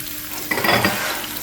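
Ginger and green chilies fry in a pan with a soft, close sizzle and a brief burst of stirring scrape in the middle, quiet and without talk.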